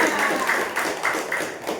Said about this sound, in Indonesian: Beri tepuk tangan untuk kelompok dua